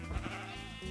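A Minecraft sheep bleats once in a short nasal call, heard alone and close with no talking.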